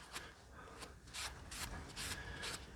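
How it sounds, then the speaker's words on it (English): Wet rag rubbing and wiping excess glue off the wooden handle of a vintage Boy Scout hatchet, a series of soft, close scrubbing strokes repeating in an irregular rhythm, alone without talk. "Take a wet rag, wipe off the excess glue."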